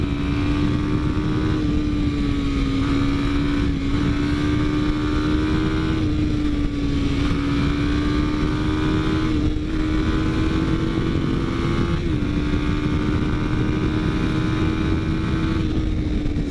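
A 2015 Kawasaki Ninja RR Mono single-cylinder motorcycle on its stock exhaust accelerates at speed, its engine a loud, continuous buzzing drone with a steady pitch that dips slightly at gear changes and heavy wind noise throughout.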